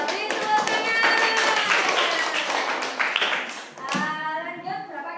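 A class of children claps hands together in a loud, lively round of applause, with young voices chattering over it and a brief dip before the clapping picks up again.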